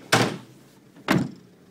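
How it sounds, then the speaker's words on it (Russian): Sliding door of a 2012 Opel Vivaro van closing on its own, two heavy solid thuds about a second apart, close and loud. "Дверь сама закрывается."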